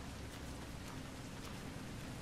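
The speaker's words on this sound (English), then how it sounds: "Here comes the rain." Rain falling in Resident Evil Revelations 2, a steady even hiss of dense drops with no breaks, moderately quiet and unbroken across the whole stretch.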